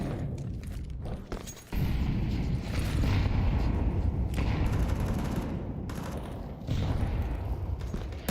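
Gunfire in a Counter-Strike pro league match on the map Nuke, including a Desert Eagle pistol: dense bursts of shots and booming impacts layered over continuous game noise, loud throughout with brief dips.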